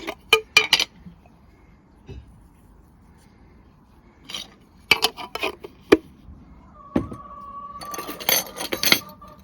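A spoon stirs horseradish sour cream sauce in a bowl, giving scattered clinks and scrapes in short bursts with quiet pauses, then a denser run of clatter near the end.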